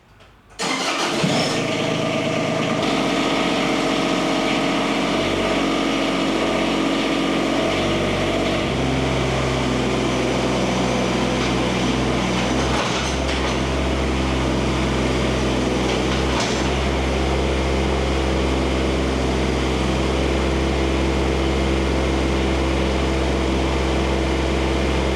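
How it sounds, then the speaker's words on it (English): A pressure washer engine starts and then runs steadily while a Bobcat is washed, a loud, constant mechanical drone with a low hum and a few small shifts in tone, no talk over it. "Let's go pressure wash the Bobcat."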